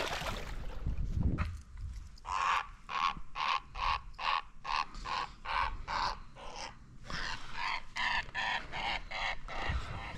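A run of harsh, repeated bird calls, about a dozen squawks in a steady rhythm, loud and fairly close, with a brief pause midway.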